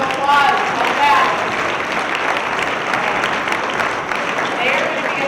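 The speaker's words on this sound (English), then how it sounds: "let's give them a round of applause" Audience applause at a Minnesota AMA annual conference general session, a dense, steady wash of many hands clapping from start to finish, with faint voices mixed underneath.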